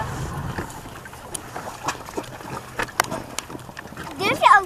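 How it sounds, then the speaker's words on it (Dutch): A Stingray 195LR motorboat with a 4.3 MPI engine runs on Lake Garda, its low hum steady beneath wind buffeting and near, excited voices talking throughout. "Oh, de motor staat nog aan."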